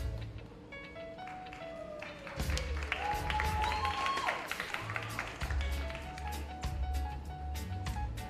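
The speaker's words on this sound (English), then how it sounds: "Keep that applause going" Audience applause at a performing arts awards ceremony for school nominees, fairly quiet and distant clapping that swells midway, with scattered sharp claps and a low background hum.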